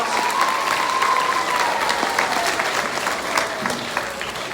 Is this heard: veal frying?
no